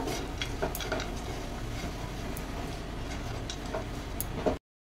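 Chaat masala and crushed fried peanuts are stirred into a snack mixture in a pan, giving a steady run of scraping and light clinking from a spoon against metal, close and continuous with no talk.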